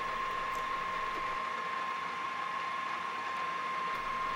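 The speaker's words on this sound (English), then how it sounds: "This is the power feed." A milling machine's power feed turns the hand wheel while jewelling small parts, giving a steady, even mechanical whir with a faint constant whine and light ratcheting texture, continuous and alone.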